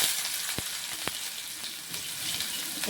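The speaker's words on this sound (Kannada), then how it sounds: "ಇದೆಲ್ಲನೂ ಸ್ವಲ್ಪ ಎಣ್ಣೆಗೆ ಸಣ್ಣಗೆ ಫ್ರೈ ಆಗಬೇಕು" Onions frying in a small amount of hot oil with cumin, mustard seeds and curry leaves for a drumstick adai dish, a steady close sizzle with a couple of brief stirring clicks and no talking.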